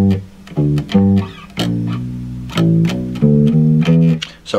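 Electric bass plays the second riff of a song, a bass line, as a run of short plucked notes moving between low pitches in a choppy rhythm, alone and close up.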